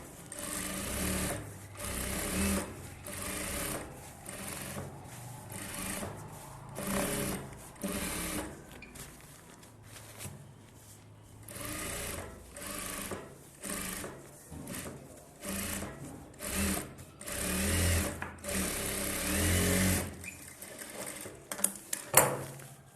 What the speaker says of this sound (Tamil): லைனிங் மட்டும் எடுத்து ஓரத்தில் அப்படியே எஜ்ஜு தையல்